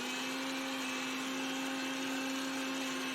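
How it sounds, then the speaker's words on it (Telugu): A mixer grinder grinds chopped onions for an Andhra-style curry, giving a steady, even motor whir with a constant hum that runs unbroken throughout at moderate loudness. "ఉల్లిపాయలు ఉన్నాయి కదా, ఇలా కట్ చేసినవి మిక్సీ పెట్టాలి"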